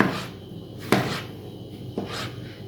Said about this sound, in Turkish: Şimdi domatesleri küp küp doğrayacağım